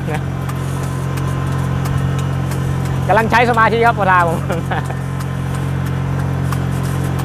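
A rice transplanter's engine drones steadily while the machine is driven through a paddy planting Nan 59 glutinous rice; someone talks briefly over the constant hum midway.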